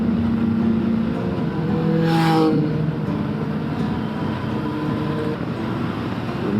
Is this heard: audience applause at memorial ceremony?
no